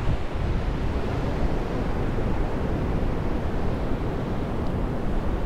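Waves break and churn on the beach at South Padre Island under steady wind buffeting the microphone, a loud, dense, continuous roar without speech.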